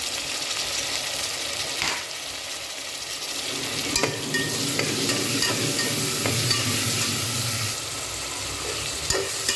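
Chopped tomato, green beans and carrot sauté in a pan with a constant bright sizzle, and a spoon scrapes and taps through the vegetables now and then.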